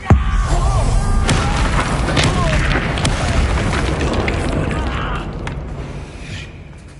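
In the Hogwarts Legacy video game, a Bombarda explosion spell goes off with a sharp initial boom, then a long rumbling, crackling roar of debris that fades slowly, with brief creaks and pops scattered through it.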